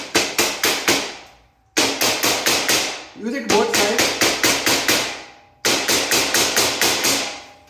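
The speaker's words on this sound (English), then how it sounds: "And then you're just supposed to use the hammer." Hammer blows tap steel beams of a Brightroom 5-tier heavy-duty boltless shelving unit into place, coming in close, loud bursts of four to six quick strikes with short pauses between, and a brief spoken phrase in the middle.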